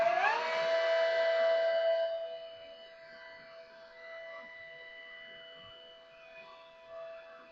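A Motenergy ME-1206 20 hp brushless electric motor spins with a high, siren-like electric whine that slides down in pitch, then settles into a fainter steady hum.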